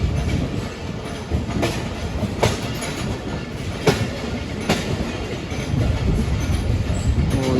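A train rake passes on Pakistan Railways with a steady, loud rumble and rhythmic clickety-clack of wheels over rail joints, sharp periodic clacks recurring throughout, and no talking.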